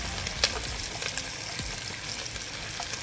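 Onion sizzling in oil heated for half a minute in a pan while cooking a potato stew, a steady soft crackle and hiss at low level throughout.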